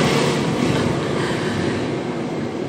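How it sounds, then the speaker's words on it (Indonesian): A train passes close by, a steady broadband rumble and rattle of rail cars that stays loud and even throughout, with no talking over it. "Sebentar ada kereta."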